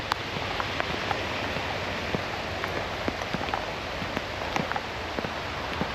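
Heavy, steady rain falls during a hike near Okehampton and Meldon Reservoir, a constant dense hiss broken by scattered sharper drops tapping close by, with no talking.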